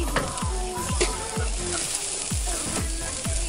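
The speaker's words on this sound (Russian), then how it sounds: "Вот, короче, сейчас жарим, шкварим" Marinated chicken frying in a hot pan, sizzling and crackling continuously with a steady spattering hiss and repeated soft clinks of stirring.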